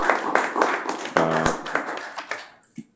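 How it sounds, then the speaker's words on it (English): Scattered audience hand claps at a school board meeting, irregular and fairly close, thinning out and fading to near silence by the end. "this board deserves another round of applause"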